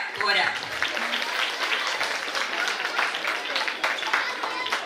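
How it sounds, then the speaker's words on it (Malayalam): A church hall audience at an Onam prize ceremony claps in a sustained patter of many hands, with a voice talking over the applause. "വലിയ കയ്യടി കൊടുക്കേണ്ടത്."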